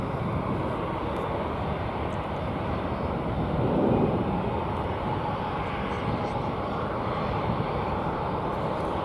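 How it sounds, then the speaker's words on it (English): An American Airlines Airbus A321 takes off at DFW airport, a loud, steady jet engine roar with broadband rumble that swells slightly midway, heard from nearby with light wind noise. "Here's an A321 American plane, which is jetting off to Tulsa."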